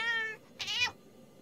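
A cartoon cat in an animated children's show meows twice, a long, clear, tuneful cry followed by a shorter, brighter one, close and alone with no talk.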